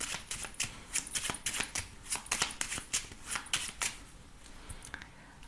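A deck of 32 playing cards being shuffled by hand, with a steady run of crisp riffling flicks and slaps close up, repeating in quick bursts for several seconds with no voices.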